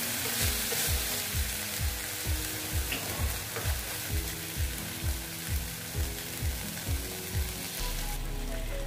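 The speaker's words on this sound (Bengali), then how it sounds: "একটু বাটিটা দিয়ে দিলাম সামান্য, দিয়ে এটাকে আমি ভালো মতন কষিয়ে নেব।" A pan of ground paste for pointed gourd curry, made with peanuts, mustard and poppy seeds, is sautéed over heat. Sizzling runs under a steady, rhythmic run of scraping strokes from a spatula, close and fairly loud, with no talking.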